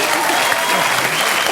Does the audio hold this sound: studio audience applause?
yes